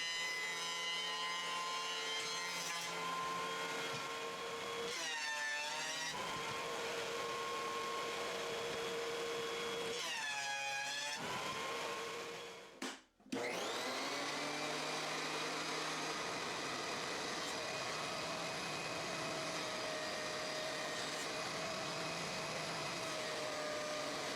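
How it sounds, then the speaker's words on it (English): A thickness planer shaves the uneven top face of a wooden cutting board blank, a steady machine whine and cutting roar running throughout with a brief pause near the middle. "went to the planer to shave off the top uneven face"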